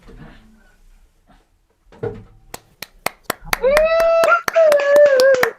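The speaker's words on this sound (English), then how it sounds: "The crowd goes wild." Audience applause at a livestream, a few sharp separate claps that quicken into a short burst, followed by a person speaking over the last of the clapping.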